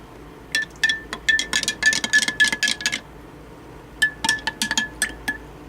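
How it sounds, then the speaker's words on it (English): Repeated bright clinks of a utensil scraping and tapping inside a glass bowl as melted butter is stirred into a mixture, two bursts of rapid rhythmic strokes separated by a brief pause, fairly close. "And we'll give this one more stir."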